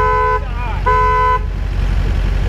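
A truck's alarm blares just after its dead battery is hooked up: two loud, sustained horn blasts, near and harsh, separated by a short gap, over a low rumbling background, followed by a quieter tail.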